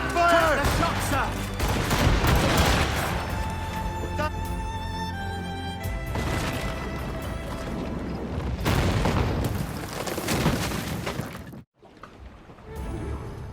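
Naval cannons fire in a ship battle in Assassin's Creed Rogue, a loud volley of booming shots followed by rolling rumble. A second heavy burst hits near the end, after a short gap of near silence.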